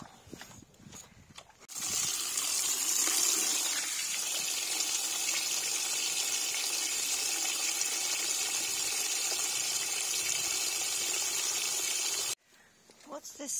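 Water gushes steadily into a farm animal's trough on a winter farm with pastured pigs, a continuous rushing pour lasting about ten seconds and stopping abruptly, with brief quieter handling sounds before and after.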